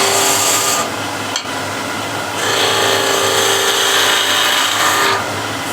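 Steady whirring hiss of a wood lathe making a planing cut to true up a bowl blank, loud and continuous with the tool's pressure swelling and easing, no voices over it.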